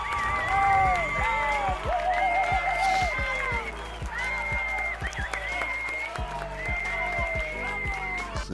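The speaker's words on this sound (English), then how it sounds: "Audience claps here. Applause, applause." Studio audience applause, a dense wash of clapping with some cheering, running steadily throughout with musical tones and a voice-like melody layered over it.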